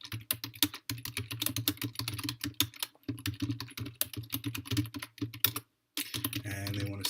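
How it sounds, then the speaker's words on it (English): Rapid, close clatter of keys on a computer keyboard while code is typed, with steady bursts of keystrokes broken by short pauses and a hum underneath. "what I always like to do is to type exactly what they give us"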